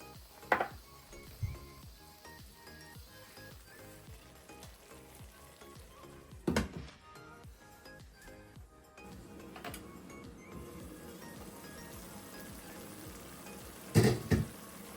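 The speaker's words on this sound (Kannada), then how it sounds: "ಹುಣಸೆಹಣ್ಣಿನ ರಸ ಹಾಕೋತಾ ಇದ್ದೀನಿ" Tamarind juice hits a pan of radish sambar with a low, steady sizzle and crackle, punctuated by a few sharp clatters of a spoon or vessel, the frying growing slightly denser toward the end.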